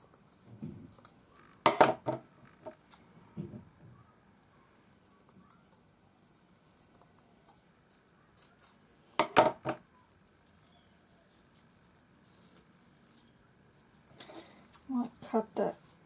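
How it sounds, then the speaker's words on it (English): Scissors snipping through wired ribbon for a double bow, a few brief, sharp cuts heard close up in short bursts separated by quiet gaps. "cut that ribbon a bit again."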